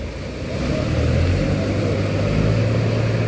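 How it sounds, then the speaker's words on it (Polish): A car drives through floodwater during a flood, its engine a steady, fairly close drone that swells after the first half second and holds throughout, with no voices. "O Jezu, samochód."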